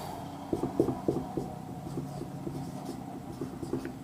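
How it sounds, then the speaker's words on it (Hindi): Pen or chalk writing during a class on endocrine glands, producing faint, irregular scratchy strokes in a quiet room, with a few firmer taps and scrapes early on and lighter marks trailing off. "चलिए हम लिखेंगे"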